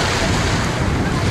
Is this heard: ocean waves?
yes